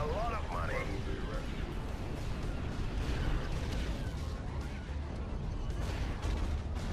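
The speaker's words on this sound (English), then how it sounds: "that's those proton bombs coming in" Proton bombs explode in a Star Wars strategy video game, a steady wash of dense rumbling blasts and crackling booms running throughout, with someone talking over them.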